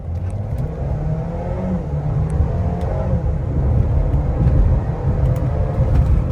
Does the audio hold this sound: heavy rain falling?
no